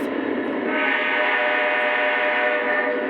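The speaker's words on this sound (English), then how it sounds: "And now we should hear the horn out of both." A steady, sustained Lionel model train horn blares for a few seconds, a continuous chord-like tone with no pauses and no voices.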